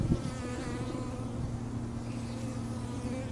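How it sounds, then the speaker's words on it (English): European honeybees buzz close by around big mud puddles outdoors, a continuous drone with no voices. "There's these honeybees, European honeybees, out here messing around in the mud on these big puddles."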